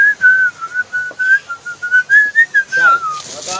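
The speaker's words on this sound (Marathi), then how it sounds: "शिट्टी वाजवले का आपण?" A person whistles a wavering, melodic tune in short, rhythmic phrases for a few seconds, near and loud, with no talk.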